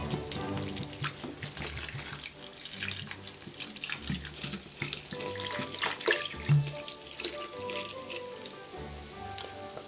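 Apple cider vinegar is poured into a sink of water for a loc rinse, making a steady trickling and splashing with uneven bursts, close by and moderately loud.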